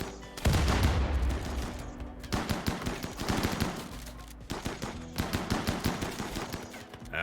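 Video game gunfire in RimWorld, rapid bursts of automatic shots rattling loudly in three long volleys separated by brief gaps, without any voices.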